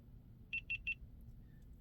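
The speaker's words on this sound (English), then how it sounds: "Nice little audible beep, beep, beep." Three short, evenly spaced electronic beeps from a GoPro camera powering on, high-pitched and crisp, over faint background noise.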